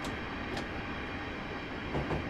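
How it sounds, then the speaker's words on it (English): A Class 465 electric train coasts on rails in Train Simulator 2016 between Orpington and London Victoria, giving a steady, loud rolling rumble with faint wheel clicks. "I'm just going to allow the train to coast for a moment"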